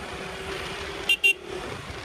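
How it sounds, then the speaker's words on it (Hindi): Traffic on a city road in Pune hums beneath a steady engine drone, broken by two short, loud car horn toots in quick succession. "traffic he traffic"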